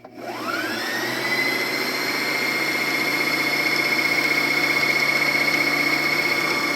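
Brother sewing machine winding a bobbin: the motor spins up with a rising whine, then holds a steady, continuous high hum up close.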